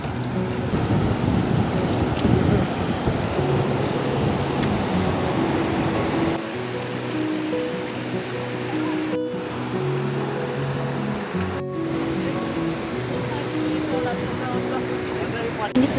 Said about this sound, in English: so that is the river that I need to cross.